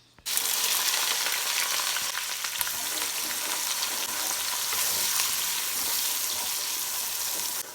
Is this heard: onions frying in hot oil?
yes